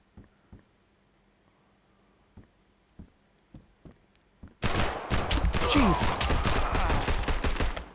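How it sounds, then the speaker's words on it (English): Loud, dense burst of rapid video game gunfire erupts after several quiet, scattered clicks and thumps, continuing nonstop with a brief exclamation from a voice. "The gunshots are loud in your face"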